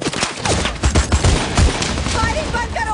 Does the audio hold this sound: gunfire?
yes